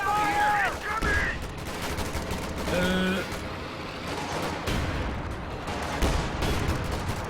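Rapid gunfire and battle noise from the Company of Heroes 2 strategy game, with bursts of small-arms and machine-gun fire, booms, and in-game unit voice lines layered into dense, continuous combat.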